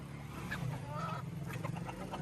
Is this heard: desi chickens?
yes